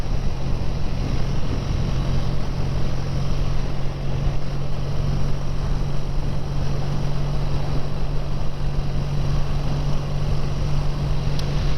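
A BSA A10 650 motorcycle ridden in top gear at about 35 mph, a steady low engine drone under heavy rushing wind noise, constant and unbroken throughout.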